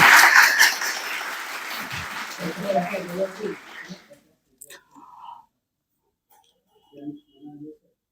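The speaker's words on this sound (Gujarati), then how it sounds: "જોરદાર તાળીઓ સાહેબ" An audience at a valedictory function and result ceremony claps in a burst of applause lasting about four seconds, then it stops, followed by quiet murmuring voices.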